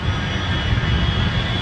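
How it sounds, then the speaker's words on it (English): American Airlines Flight 1, a heavy jet airliner on final approach into Los Angeles, gives a loud continuous engine roar with a steady high whine above it and no talk. "American Flight 1 is arriving in Los Angeles"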